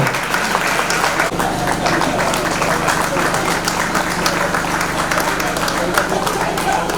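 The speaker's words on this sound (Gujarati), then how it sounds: "ઘેડા બેડા લેજો તો જવાન તાળીઓ વગાડજો." An audience at a Ram Katha religious gathering claps steadily in sustained applause, with a dense patter of hands continuing throughout.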